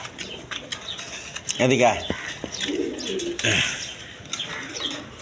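A male white-beaked Bombay pigeon of large size coos in a short, low burst near the middle, with other birds chirping around it and someone talking over the sounds.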